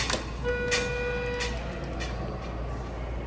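A Schindler 330A hydraulic elevator door in a movie theater at a mall moves with a few sharp metallic clanks and a brief tonal squeal, set against a constant low machine hum with no talking.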